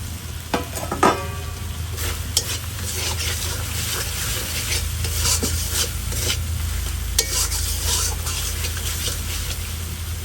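Chopped tomato sizzles and gets stirred through frying masala for a jackfruit and prawn curry, a steady hiss running throughout with scraping stir strokes and a few sharp clinks near the pan.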